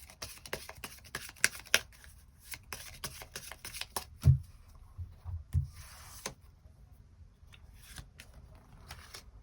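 Tarot cards are shuffled and drawn by hand, giving a run of quick, close, soft riffling and slapping card sounds with one heavier thump midway, followed by quieter sparse flicks.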